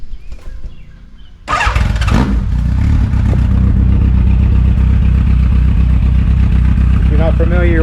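A 1985 Yamaha FJ1100 motorcycle, built as a cafe fighter, cranks over after a quiet second and catches, settling into a loud, steady idle with some mechanical clatter, close to the listener.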